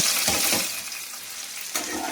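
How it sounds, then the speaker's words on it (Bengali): Prawns fry in a pan with a steady, close broadband sizzle, and a few louder crackling bursts rise near the start and again toward the end. "এখানে চিংড়ি মাছটা ভাজছি"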